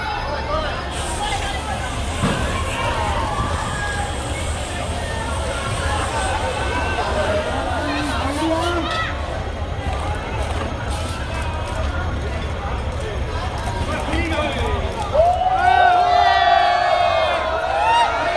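A crowd at a Hong Kong street protest cheers and whoops in a sustained roar, with a voice talking over the noisy hubbub and a louder swell near the end.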